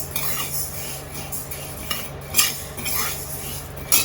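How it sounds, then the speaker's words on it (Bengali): Lentils are fried and stirred in a pan, with a steady soft sizzle and occasional scraping clinks of a spoon against the metal, heard close and alone. "এবার ডালটাও ভেজে নিচ্ছি।"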